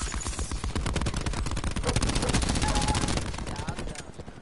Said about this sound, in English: I never knew they fucking put the laser musket in this game